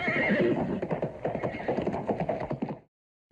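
Horse whinnying with rhythmic clip-clop of hooves in a galloping cadence, fairly close and steady for nearly three seconds before cutting to silence.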